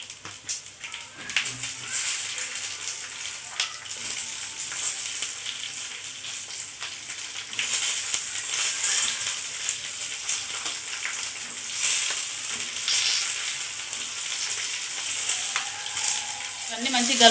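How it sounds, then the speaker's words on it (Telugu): Chillies fry in oil for mirapakaya pachadi, giving a steady, close sizzle with occasional stirring that lasts throughout, under faint talk. "ఇప్పుడు మిరపకాయలు మనకు ఆయిల్లో గోలితే ఎట్లుంటుంది ఇట్లా మాడినట్టు వస్తుంది చూడండి"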